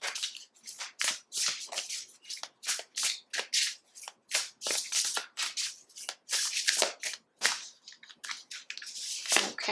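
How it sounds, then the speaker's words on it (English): Rose Oracle cards shuffled in a rapid run of crisp, papery riffles and slaps, close and fairly loud, repeating in short bursts for about ten seconds with no talking. "let's go ahead and grab one more card from this beautiful Rose Oracle"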